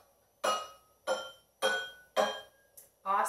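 Water-filled glasses set up as a colorful musical xylophone are struck one after another, six clear ringing clinks at a steady pace, each tone bright and decaying quickly, heard alone.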